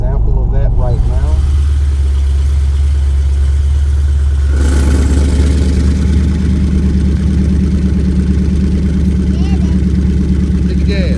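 A 2016 Dodge Challenger ScatPack with its exhaust cutouts open rumbles loudly and close at idle, then its deep exhaust note swells and holds steady as the engine revs up.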